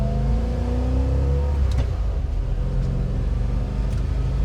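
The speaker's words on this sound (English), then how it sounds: "This thing drives perfect." A 1957 Chevy Bel Air on the move, its engine rumbling steadily as it climbs through the revs, close and loud, with road noise and no talking.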